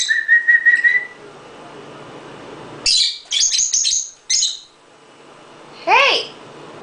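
Birds chirping and whistling close by: short bursts of bright tweets and whistled calls separated by gaps of quiet, with a faint babbling quality in some phrases.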